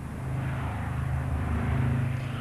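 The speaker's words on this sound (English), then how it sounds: "a B-29 with Yeager aboard and his X-1 slung beneath it took off" A B-29 bomber taking off gives a steady, fairly loud drone of piston engines and propellers. The low hum is sustained at constant strength, with no voices over it.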